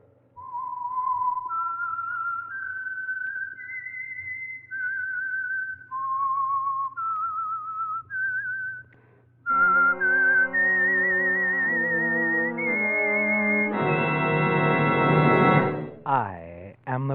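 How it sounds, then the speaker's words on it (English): A whistled melody identifies the Signal Oil radio program The Whistler, a lone wavering tune of sustained notes that swells into a full orchestral passage and a loud closing chord. "the signal to listen for is this whistle that identifies the Signal Oil program"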